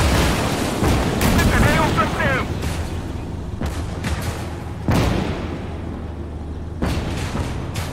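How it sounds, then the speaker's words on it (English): Enemy gunfire and explosive booms aimed at the player in the WWII strategy game Call to Arms: Gates of Hell, heavy dull blasts recurring every couple of seconds under a voice talking. "Oh, something's firing at me."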